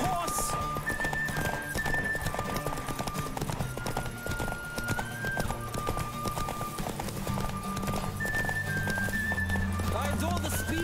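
Horse hooves gallop in a fast, rhythmic clip-clop in The Witcher 3: Wild Hunt, accompanied by a neigh and jingling tack, with music and a voice continuing underneath the whole time.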